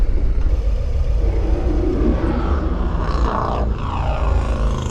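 A Harley-Davidson Low Rider ST motorcycle rides along a road, its loud engine rumble and rushing wind filling the recording continuously for several seconds, with no talk.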